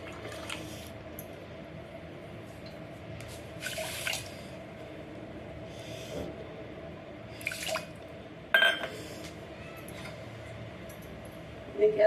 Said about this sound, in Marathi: अर्धी वाटी पाणी भरत टाकणार